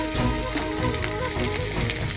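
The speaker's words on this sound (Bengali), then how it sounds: "এটাতে এবার জল দেব পরিমাণ মতো।" Egg curry masala sizzles loudly in a frying pan as water is added, a steady close crackle and hiss with faint stirring throughout and no talking.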